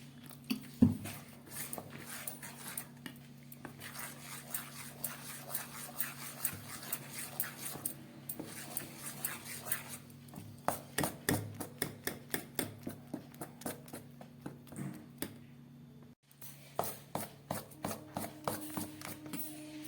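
Thick rice flour batter for sarucakli pitha beaten by hand, close rhythmic wet slaps and squishes that speed into a steady beat, over a faint background hum.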